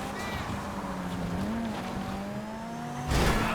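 A car in the Crates racing game runs with a steady engine drone and tire noise, then a short, loud crunching burst of impact near the end.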